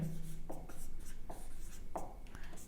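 Chalk or pen scratching on a board or paper during a maths lesson on the simplex method, a few short strokes in quiet succession, close and soft.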